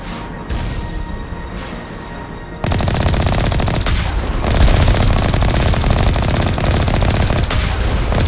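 Rapid turret gunfire from Mass Effect Legendary Edition on Noveria, played on Xbox Series X: a steady, loud stream of automatic shots that starts sharply after a quieter moment and keeps hammering with little pause.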